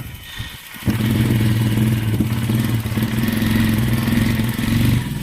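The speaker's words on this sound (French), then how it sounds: "Et arrive à réchauffer un peu la moto aussi." A motorcycle engine warming up, idling with a steady low throb and a faint clattery rattle, close and continuous after a brief quieter start.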